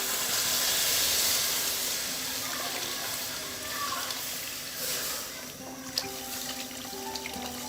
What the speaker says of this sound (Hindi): अब मैं इसमें पानी डालूँगी 1 लीटर जो मैंने लिया है।